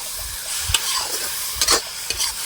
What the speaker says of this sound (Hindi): और 3-4 मिनट तक अच्छे से भून लेंगे कढ़ाई में